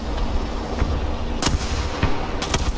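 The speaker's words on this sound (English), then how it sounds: "I'm taking fire from close to you" Sharp, scattered gunshots in a team shooter game crack out at irregular intervals, some close and loud, others more distant, without any talk.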